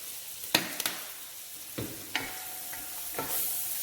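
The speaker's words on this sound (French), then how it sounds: "On va bien remuer tout." Paella mixture with pre-mixed spices being stirred in a pan, a handful of soft scraping strokes and clicks spaced apart over a quiet, faint background hiss.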